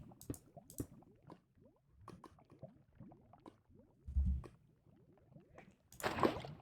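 Water poured from a bucket in Minecraft, a brief burst of splashing near the end following scattered soft block-breaking clicks and taps, all close and moderately quiet.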